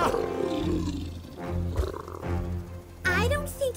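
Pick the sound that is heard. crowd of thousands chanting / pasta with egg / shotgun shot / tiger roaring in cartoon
tiger roaring in cartoon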